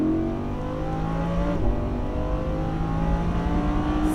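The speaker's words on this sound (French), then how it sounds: "Et tu remets du gaz maintenant" A Lamborghini Huracan on a race track accelerating hard, its engine note rising steadily and loud and close for about four seconds, with a brief shift around the midpoint; no talking.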